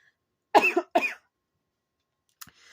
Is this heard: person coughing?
yes